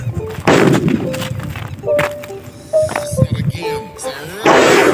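An atom bomb firecracker set off, bursts of loud blasts and cracking pops, with voices talking between the bangs.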